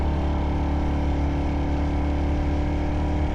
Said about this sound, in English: I think this 350, the J Series engine from Royal Enfield